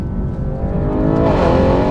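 A 2019 Porsche Cayenne Turbo with roughly 700 hp accelerates hard, its engine note rising steadily in pitch and loudness over two seconds, close and alone with no talk.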